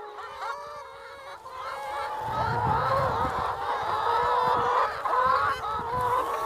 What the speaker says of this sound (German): kümmert sich der Chef heute zuerst um die Hühner